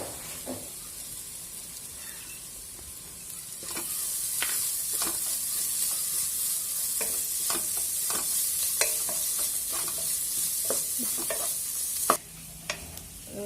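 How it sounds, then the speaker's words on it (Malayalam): Fried chicken is stirred into a noodle mixture in a pan, a steady hiss of frying under repeated scraping strokes of a spoon, growing louder partway through. "ഇളക്കിയിട്ട് നമുക്കിനി ചിക്കൻ ചേർത്ത് കൊടുക്കാം ഓൾറെഡി ഞാൻ പൊരിച്ചെടുത്ത ചിക്കനാണ്"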